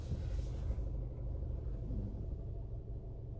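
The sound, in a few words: car engine idling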